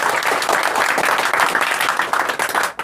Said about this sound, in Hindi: तो मैं इस परिवर्तन के लिए एक जोरदार ताली